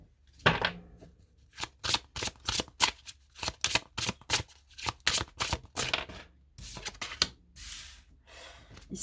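An oracle card deck is shuffled by hand in quick, crisp bursts of riffling and slapping, repeated in an irregular rhythm, close and fairly quiet, with no talking.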